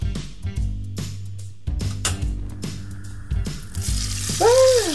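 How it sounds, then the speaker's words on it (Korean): Miniature chicken frying in oil in a tiny pan from a Re-Ment mini kitchen set, a steady close sizzle with light crackles and a few clinks of utensils, no talking. "맛있게 튀겨지는 소리."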